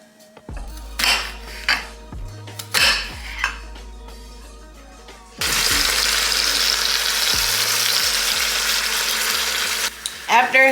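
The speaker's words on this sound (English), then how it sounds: "After it's been browning for a couple of minutes, I'm gonna flip it over." Pot roast meat browns in a hot pressure cooker. A few clanks of utensils and pans come first, then a loud, steady sizzle and frying hiss fills the rest, close up.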